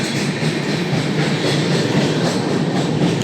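A passenger train runs near Farakka, heard from on board as a loud, continuous rumble of a moving rail car with steady rattling wheels and no pauses.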